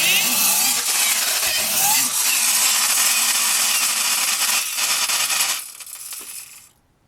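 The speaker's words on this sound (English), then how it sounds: "Gonna rev it up a couple times." Vintage Cragstan Horikawa tin friction toy Project Mercury space capsule being revved, a loud, close, continuous grinding whir that holds steady for several seconds, then drops off and fades out.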